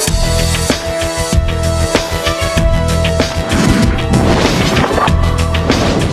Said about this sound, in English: placed plastic explosive in a luggage container made of glare